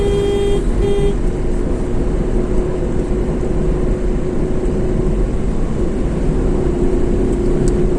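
A Maruti S-Presso car cruising on a highway makes a loud, steady cabin drone of engine and road noise, with a brief tonal whine at the start.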